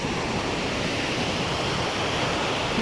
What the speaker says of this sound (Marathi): सो मी तुम्हाला इकडूनच दाखवते आवास बीचचा समुद्र